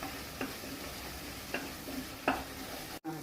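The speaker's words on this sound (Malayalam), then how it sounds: "ഈ ചെറുള്ളി നന്നായിട്ട് വഴണ്ട് ഒന്ന് ബ്രൗൺ കളർ വേണം" Shallots sautéing in a pan for a Tamil Nadu-style pepper chicken gravy give a steady, close sizzling hiss, broken by three or four brief scraping stirs spread across the few seconds.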